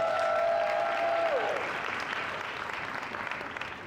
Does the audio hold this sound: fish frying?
no